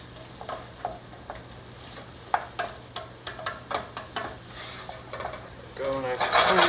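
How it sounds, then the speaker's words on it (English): Metal utensil scraping and stirring across the bottom of a cassoulet pan to loosen browned bits, a run of short scrapes building into a louder sizzle near the end. "And then you just scrape up all that good stuff off the bottom."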